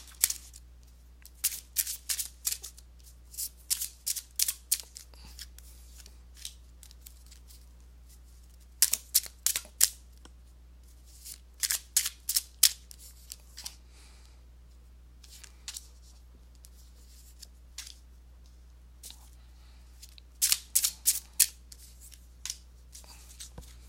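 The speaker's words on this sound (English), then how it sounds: "let me go ahead and give these cards a shuffle" Tarot cards being shuffled by hand in quick riffling bursts, crisp papery flurries separated by short pauses, close and alone in a quiet room.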